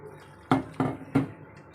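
Gram flour batter mixed with water in a bowl, heard as three distinct wet knocks of the spoon against the bowl, close and spaced a few tenths of a second apart.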